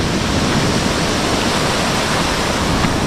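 A steady, dense roar of sea waves washing in, continuous and close, with no voices.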